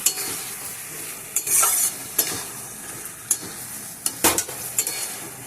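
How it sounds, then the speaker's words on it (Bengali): Vegetables, cauliflower and greens, stirred with spice paste in a pan, a spoon scraping in distinct strokes over a soft sizzle, with several louder scrapes and clinks close by. "দিয়ে আবার নেড়ে চেড়ে ভালো করে আমি মশলাটাকে মিশিয়ে দেব"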